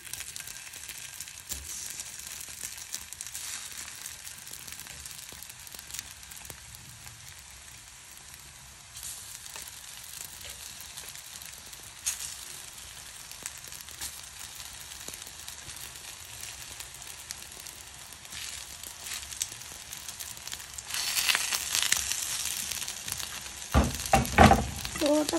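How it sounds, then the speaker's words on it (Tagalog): Koya-dofu frying in oil in a pan, a faint, steady sizzle that runs throughout and grows louder toward the end, with a few clattering pan sounds at the close. "Fry natin siya."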